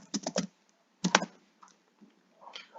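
Quick bursts of key clicks on a computer keyboard as a short word is typed, close and crisp, with brief pauses between the clusters.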